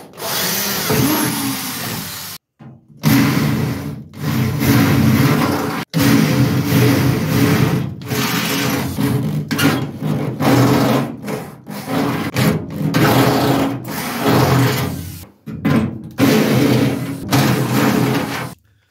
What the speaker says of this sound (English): just use a step drill in to finish them off to deburr them